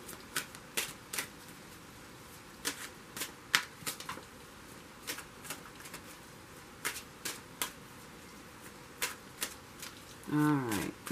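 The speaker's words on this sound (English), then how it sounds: "Here I am shuffling again." Tarot cards being shuffled by hand, a series of crisp riffling bursts and snaps recurring at an irregular pace, close and clear over a quiet room, with a brief tonal sound at the very end.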